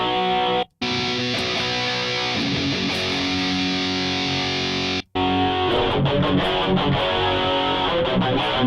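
Distorted electric guitar played through a Line 6 Helix with a Rockman-style tone, with sustained chords and ringing notes split by two brief silent gaps and a busier, choppier passage toward the end.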